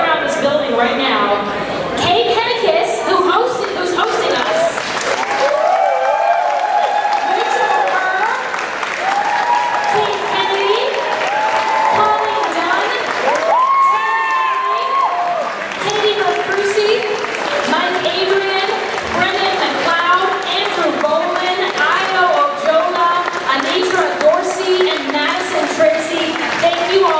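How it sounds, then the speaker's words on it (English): Loud, sustained applause from a large gala audience fills the hall without pause, with cheering and crowd chatter mixed through the clapping. "clap as loud as you can when I say their names"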